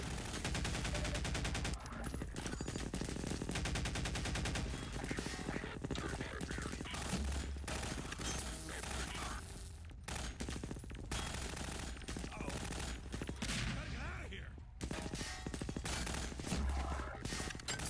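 Gunfire in the video game Half-Life 2: dense, continuous automatic fire and bursts of shots with crashes, steady and loud throughout, with voices mixed in.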